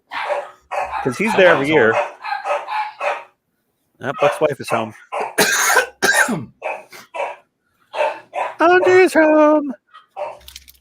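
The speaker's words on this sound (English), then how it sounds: "I was just looking for my dog when I heard all the barking." Dogs bark in bursts behind a closed door, muffled and intermittent, mixed in with people chatting casually nearby.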